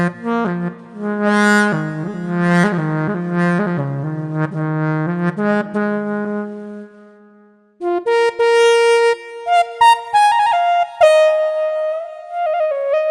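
An electronic wind instrument plays a Native American flute patch called Desert Flowers 5, giving a breathy, sustained melodic line with bending notes, a brief pause, then a higher phrase, loud and alone.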